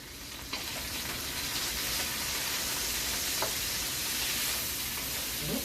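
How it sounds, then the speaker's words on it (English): Vegetables sizzle quietly in a pan, with a soft, even frying hiss and occasional light clicks as they are stirred. "I'm going to give it a stir"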